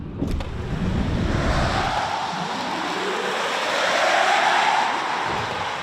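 A 2025 Chevrolet Blazer EV SS with 615 horsepower launching hard under launch control: a rising electric motor whine and swelling road and wind rush build steadily over several seconds, heard from inside the cabin with no talking.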